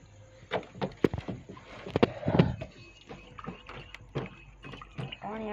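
Water is being changed for pet parrots, with close, irregular knocks and clunks of containers and a few splashy pours. Faint voices and quiet gaps fall between the sounds.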